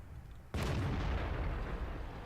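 A single heavy tank gun shot in the video game World of Tanks, a sudden loud boom that cuts in sharply and rolls on with a long rumbling tail, heard alone without talk.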